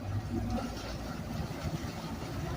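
The water-cooled engine of a river cruise boat at Weeki Wachee Springs State Park idles with a steady, low, rumbling purr, continuous and fairly quiet throughout.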